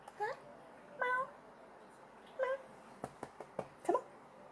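A cat meows several times indoors, drawn-out mewing calls spaced a second or so apart, followed by a run of short clicks and taps, with someone talking to it close by.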